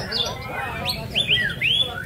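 Oriental magpie-robin (murai batu) singing at a bird song contest in a housing estate, with several sharp, clear chirps and whistled phrases rising over a steady background murmur of crowd noise.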